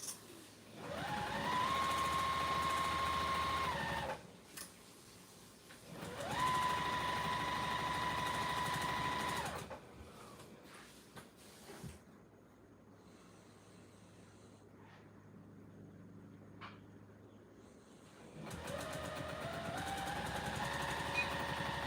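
A sewing machine stitches binding onto a quilt in three runs of steady, rising motor whine and needle chatter, separated by a quieter pause with faint handling noises while the presser foot is lifted and the fabric turned.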